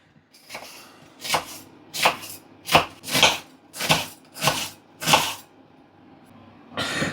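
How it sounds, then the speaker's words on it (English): Knife chopping onions on a cutting board, about eight sharp, distinct chops in an irregular rhythm, close and clear with no voices. "So we're just going to chop up the onions."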